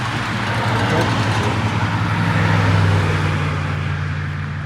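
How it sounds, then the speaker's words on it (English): Highway traffic streams steadily past a roadside trail crossing on the Appalachian Trail, a continuous loud roar with a low engine drone swelling as vehicles go by at speed. "I gotta wait, there's traffic coming in. And they are flying through here"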